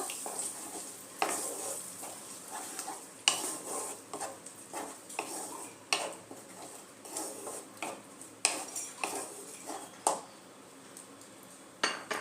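A spoon stirs sour yogurt into a spiced cauliflower roast mixture in a metal pan, with repeated scraping knocks at irregular intervals and a faint sizzle underneath, close and fairly loud, no talking.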